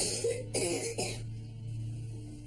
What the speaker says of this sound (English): You got a cough